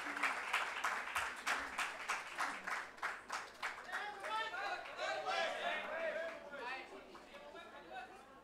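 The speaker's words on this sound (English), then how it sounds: "A big round of applause for him." Audience at a book launch event applauds a guest on stage, rhythmic clapping at first that loosens into scattered claps under growing chatter and voices.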